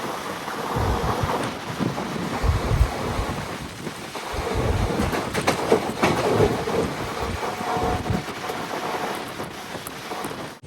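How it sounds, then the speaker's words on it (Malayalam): A passenger train rolls along the rails into Nileshwaram railway station, a loud, continuous rumble with shifting roar and clatter, no voices. "ട്രെയിൻ ഇതാ നീലേശ്വരം റെയിൽവേ സ്റ്റേഷനിലേക്ക് എത്തുകയാണ്"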